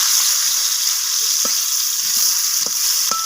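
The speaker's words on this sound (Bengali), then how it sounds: "এরপর ওই একই তেলের মধ্যে ওলকপিগুলো দিয়ে দেবো" Kohlrabi pieces fry in hot oil with a loud, steady, close sizzle, broken by a few soft stirring taps.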